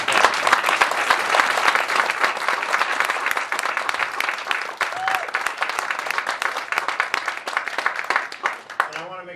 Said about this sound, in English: I really, really wanted us to extend a great round of applause.